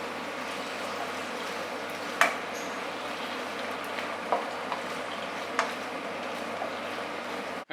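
Tofu stirred in a hot pan with garlic and spring onions gives a steady, even sizzle throughout, broken by a few faint clicks of a utensil against the pan.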